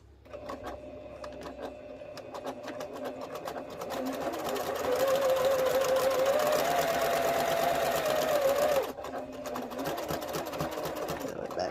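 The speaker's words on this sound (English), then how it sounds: "I am going to backstitch at the top of this one." A sewing machine backstitches a mini quilt with a steady, close, rapid needle clatter that rises in speed and loudness, pauses briefly, then resumes. Faint talk may sit underneath.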